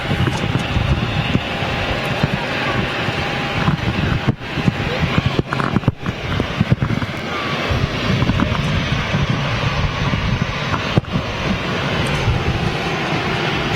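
An Emirates Airbus A380 at Dusseldorf airport, its engines a loud, sustained roar with steady broadband rumble and whine, buffeted by wind noise on the microphone throughout.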